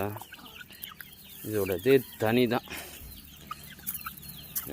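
Chickens cluck in a short burst of loud, harmonic calls mid-clip, with a person speaking briefly over softer background clucking from three hens and a rooster.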